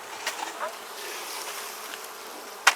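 Honeybees hum and buzz softly around an open Lang beehive during an outdoor inspection, a continuous faint drone with a few closer passing buzzes and a sharp tap near the end.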